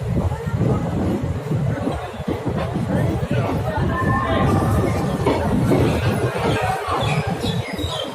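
Busy platform 3 at Chandigarh as the Hoshiarpur Express arrives: continuous crowd chatter and babble over low rail rumble, with faint bird calls and clatter mixed in.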